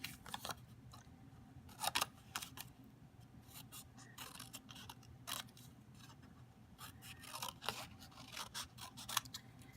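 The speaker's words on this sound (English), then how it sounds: "And then once that's drawn, you can cut it out." Quiet, close snipping of scissors through paper, in short irregular cuts separated by brief pauses.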